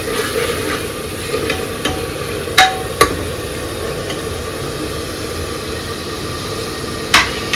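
Arhar dal being stir-roasted in a pan for khichdi, a steady close scraping and light sizzle with a few sharp spoon clinks against the pan, no talking.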